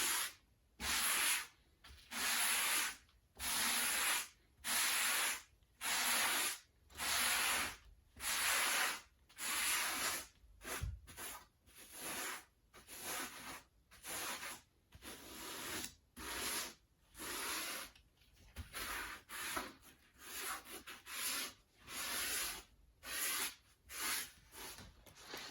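Soft upholstery foam for custom automotive upholstery is sanded by dragging the sander backwards, giving a steady series of rhythmic raspy scraping strokes, about one every second, close and loud with brief pauses between, no talking.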